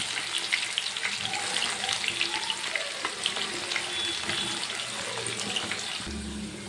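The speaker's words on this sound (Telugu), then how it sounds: "కాకరకాయలు మొత్తం డీప్ ఫ్రై చేసుకోవాలి." Bitter gourd (karela) pieces deep frying in oil, a dense continuous bubbling sizzle held steady and close for several seconds, alone without speech, ending with a brief low thump.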